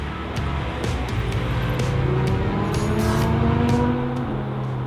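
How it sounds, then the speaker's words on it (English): A Chevrolet C8 Corvette drives past on a racetrack at Portland International Raceway, its engine a loud, steady drone with a rising then falling pitch as it goes by, close and continuous with no speech. "Or you can see the C8 that just drove by."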